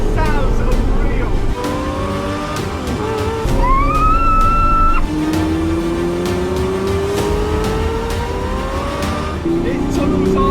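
A Lamborghini Murcielago V12 driving through hilly country, its engine loud and close, with rising and falling revs, sharp upshifts and a raw, continuous roar throughout.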